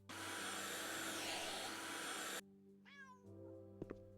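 A loud, steady vacuum-like whir cuts off abruptly in the video game House Flipper Pets, and a single rising-falling cat meow follows, then a couple of light knocks.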